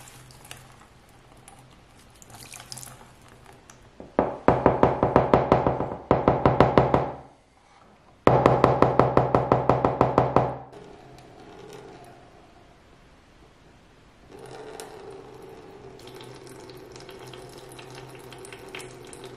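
Water sloshes and swirls as sludge scraped from London pavement cracks is panned for gold, loud splashing bursts in two runs separated by a brief pause, then quieter trickling and handling.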